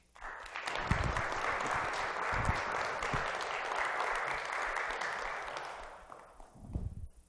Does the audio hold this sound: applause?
yes